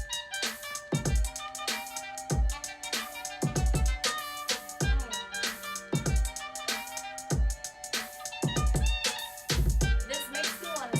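A programmed beat made in Logic Pro X with punchy kick and snare hits, tight finger-played hi-hats ticking between them, and sustained melodic tones underneath, no voices.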